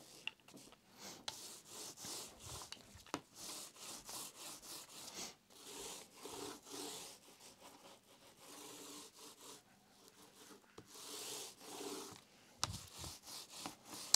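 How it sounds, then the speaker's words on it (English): A roller works epoxy across a foam panel for a model RC plane tail surface, making a soft, rhythmic rubbing and rolling swish in repeated strokes, close and quiet, with no talking. "I'm just depositing it off of the roller back onto the foam here."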